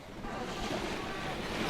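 Wind roars steadily across open sea around the small sailing boat Mingming II in heavy weather, a broad constant rush with water noise, buffeting the microphone, no voices.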